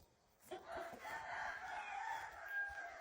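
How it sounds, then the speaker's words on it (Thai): A fighting cock gives one long, drawn-out crow nearby, rising and sustained for a couple of seconds against quiet outdoor background. "ไก่ตีมีเท่าตัวงามพี่น้องนี่"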